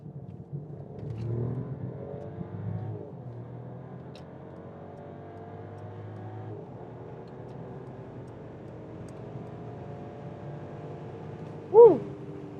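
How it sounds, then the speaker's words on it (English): A Mercedes S-Class S500 accelerating in sport mode on the Autobahn gives a smooth, moderately loud engine tone that rises steadily through the gears, with a short sharp exclamation near the end. "So it was again 50 to 170 kilometers an hour with the Mercedes S-Class."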